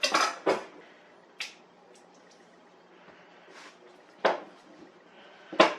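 A sharp knife cutting avocados for guacamole, heard as a few separate close knocks and clicks against a board or dish with quiet pauses between them.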